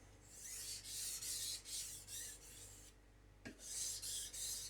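Full-length strokes of a knife across a sharpening stone to even the bevel, a steady rhythm of close, rasping scrapes about two per second, with one brief pause and a small knock.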